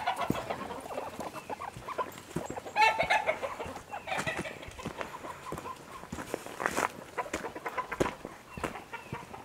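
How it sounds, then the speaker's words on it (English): Chickens cluck and murmur close by outdoors in a farm pig pasture, with scattered calls and rustling and no one speaking. "there's more chickens out in the pig pasture"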